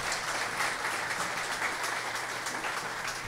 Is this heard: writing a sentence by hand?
no